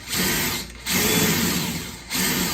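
A power drill whirs steadily in two bursts with a short pause between, a close, high-pitched grinding as it bores straight down into scrap wood.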